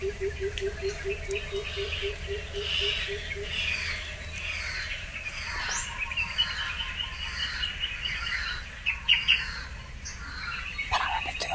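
Bird calls from an enemy commander's bird in a horror video game: a rapid series of repeated chirps at first, then scattered squawks and tweets over a faint background hum, fairly quiet throughout.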